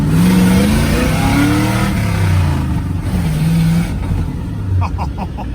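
A vehicle engine revs hard and loud as the clutch engages, its pitch climbing and falling in surges through a continuous close roar, with no speech over it.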